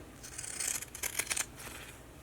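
Scissors snip through fabric and PUL layers of a reusable heavy pad close to the sewing line, giving a few quick, close rasping cuts with no talking.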